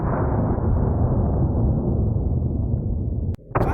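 An AR-15 rifle firing 5.56 Underwood ammunition, played back from a recording: one sustained loud blast and rumbling decay, followed by a sharp click and a brief burst near the end.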